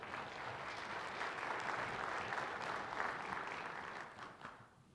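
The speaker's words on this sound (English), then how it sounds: "So please give them a round of applause." An audience at a school-district kickoff celebration applauds, dense steady clapping that carries on evenly and then thins out toward the end.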